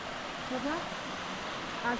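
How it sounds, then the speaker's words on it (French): A small waterfall along a trail near Gérardmer in the Vosges gives a steady broadband rush of water, with faint voices and movement over it. "Petite cascade sympa."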